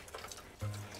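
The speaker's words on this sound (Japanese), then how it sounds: "なるだけねお顔周りは緩いシャワーにしてあげてくださいね" Gentle shower water runs while a Norwegian Forest Cat is bathed, a soft low spray that starts abruptly partway through and continues steadily and close by.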